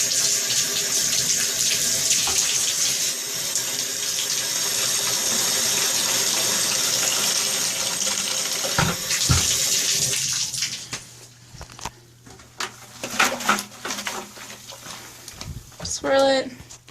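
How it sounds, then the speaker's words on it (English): Hot water gushes steadily into a basin for hand-washing cloth diapers, loud and continuous for about ten seconds, then gives way to quieter splashing and handling sounds. "So we'll splash hot water in there."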